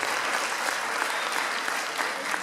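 Audience applause for student trumpet players at a school Christmas show, a dense, steady wash of clapping from a crowd, fairly close and continuous throughout with no talk over it.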